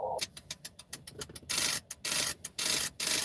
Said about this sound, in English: That noise you're hearing is my tuner tuning.